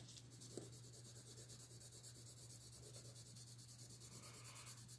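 Pencil lightly shading a background on paper during card design, a soft continuous scratchy rub with very little pressure, quiet and steady throughout with a faint low hum beneath.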